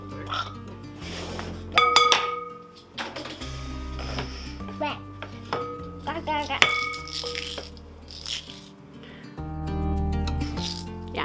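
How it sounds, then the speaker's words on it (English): A kitchen knife cuts potatoes on a board, giving a string of uneven chops, clinks and scrapes up close while people talk over much of the work. "I'm just cutting out any bad spots that I see in the potatoes just before cutting it up quick"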